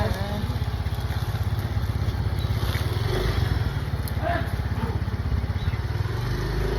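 A motorcycle engine putters steadily nearby with a fast, even pulsing throb, holding a constant idle-like rhythm throughout.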